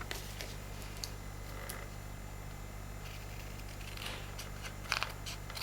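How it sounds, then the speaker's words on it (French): Scissors snip a drawn rectangle and triangle shape out of paper, making faint, sparse crisp cuts and rustles over a steady low hum, with a sharper cluster of snips near the end. "avec votre ciseau, vous allez couper le rectangle, le triangle"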